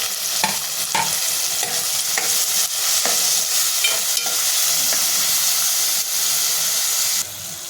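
Tomatoes and ground masala paste sautéing in a pan for a Maharashtrian fish dish, giving a loud continuous sizzle and hiss with scraping stirring strokes throughout.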